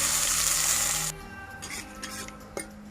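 Dried red chillies hit hot oil with panch phoron, giving a bright, hissing sizzle that drops sharply after about a second into a softer crackle, with a faint clink of a utensil near the end.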